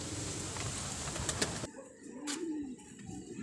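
Pigeons in a loft, with soft cooing and rustling close by that give way to a quieter stretch with a low coo, along with a brief flutter of wings.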